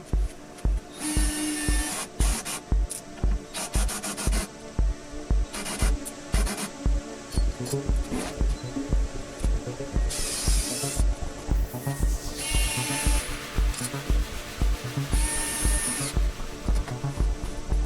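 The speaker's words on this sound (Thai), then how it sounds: "แล้วเราก็ยิงตะปูเกลียวนะครับยิงให้ครบทุกด้านเลยนะค" A power screwdriver drives screws into a minimalist wooden shoe cabinet, giving a string of loud, close whirring bursts with short pauses between them and no talking.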